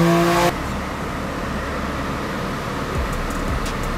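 A tuned car running on a dyno with water-methanol injection, its engine roaring loud and steady at high revs, with a brief sharp whine at the start and no talk.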